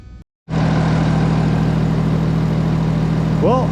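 A BMW E36 with a diesel engine running just after its first start, a loud steady idle close by after a brief cut at the start, with a short chirping sound near the end.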